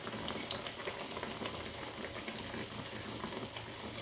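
Bread pakora deep-frying in oil, a soft, steady bubbling fizz with a couple of faint clicks near the start, fairly quiet and with no talking.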